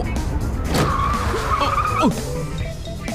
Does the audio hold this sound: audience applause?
no